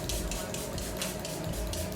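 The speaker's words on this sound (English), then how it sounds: "Spray by Charlotte Tilbury. Airbrush Flawless Setting Spray." Charlotte Tilbury Airbrush Flawless setting spray misted from its bottle, a few soft repeated hissing bursts close to the mic with no talking.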